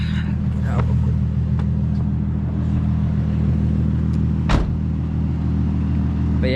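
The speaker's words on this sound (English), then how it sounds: "I just want to do a quick POV of my car, how it sounds with this exhaust" Infiniti G35 with a 6-speed manual and muffler and resonator delete, its exhaust rumbling steadily from inside the car at cruise, a deep constant drone with a brief loud burst near the middle.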